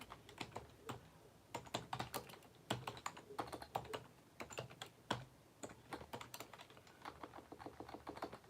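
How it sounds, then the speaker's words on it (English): Fingers typing on a computer keyboard, quiet but close, with irregular bursts of sharp keystroke clicks separated by short pauses throughout. "I don't type well to begin with"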